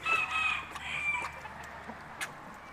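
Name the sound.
chickens clucking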